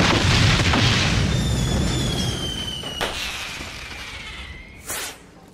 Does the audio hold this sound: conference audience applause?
no